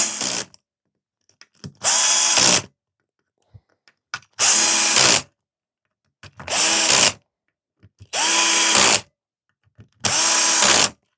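A power drill driving screws into an RC car chassis, heard up close as six short, loud whirring bursts of under a second each, separated by quiet pauses with faint handling clicks.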